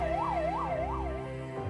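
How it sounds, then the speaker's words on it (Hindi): An ambulance rushes through an emergency with its siren going. The steady wail rises and falls about three times, clear and continuous over a low background rumble. "इमरजेंसी में तत्काल भागती एम्बुलेंस"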